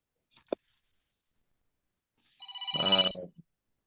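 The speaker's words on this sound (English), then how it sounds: "the hotline is ringing" A telephone hotline rings once in a short electronic burst with stacked steady tones, preceded by a faint click, in an otherwise quiet room.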